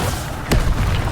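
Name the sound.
Incendio fire spell blast in Hogwarts Legacy video game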